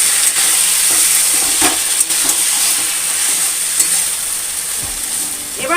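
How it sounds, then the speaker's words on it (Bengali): Boiled taro leaves are stirred into hot oil with chillies and garlic in a pan, producing a steady close sizzle with occasional spatula scrapes throughout. "এবার এতে আমি দিয়ে দেব সেদ্ধ করা কচুর শাক, দিয়ে এটাকে ভালো করে মিক্স করতে হবে বন্ধুরা।"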